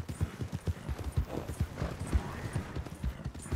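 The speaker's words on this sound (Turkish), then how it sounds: "Burada atlar var." Horses clip-clop across ground in the video game Red Dead Redemption II, a quick, steady run of close hoofbeats with faint background ambience and no talk over them.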